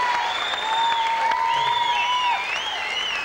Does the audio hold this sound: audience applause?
yes